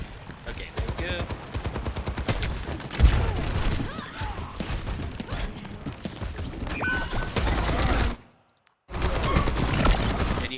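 Junkrat firing in a hectic Overwatch fight, with rapid bursts of gunfire and explosions layered over each other, loud and dense, plus a brief dropout near the end.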